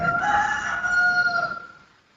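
A rooster crows in the BGMI video game, one clear cock-a-doodle-doo call at moderate distance that fades out at the end, with no talk over it.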